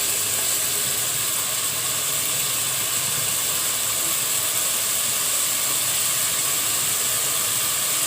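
Shrimp fry in hot mustard oil in a pan, giving a steady, even hiss and sizzle that holds at moderate loudness for the whole stretch, with no voices.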